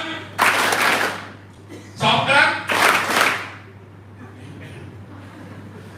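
A large group of Thai secondary-school students claps together on a leader's count, producing loud, dense bursts of clapping in separate waves, with a voice speaking in between.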